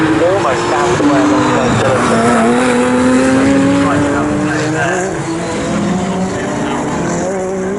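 GT3 race cars, including a Nissan GT-R, race at Snetterton with loud, continuous engine roar and rising harmonic whine as they accelerate past, and commentary talk runs over them throughout.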